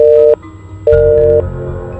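A phone call failing to connect, played over speakerphone: two steady electronic busy-signal tones, each about half a second long, separated by a short gap, with room hum underneath and no voices.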